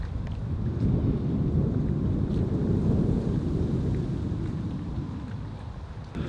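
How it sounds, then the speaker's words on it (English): Strong wind gusting over a carp fishing lake, a continuous loud low roar and buffeting across the microphone throughout, with no speech. "look at that out there, look, wind is hacking in here"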